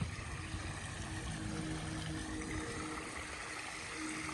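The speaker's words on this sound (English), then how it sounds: "So I got everything running right now: the waterfalls, the hot tub, and the pool." Swimming pool waterfalls and a running hot tub produce a steady, moderately loud wash of splashing, rushing water that continues without a break.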